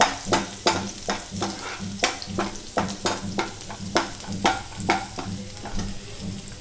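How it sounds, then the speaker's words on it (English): Chopped garlic frying in a pan for paneer butter masala, with a steady sizzle broken by a regular run of sharp spatula stirs and scrapes, close and fairly loud, with no talking. "To this we have to add chopped garlic, fry them into transparent color."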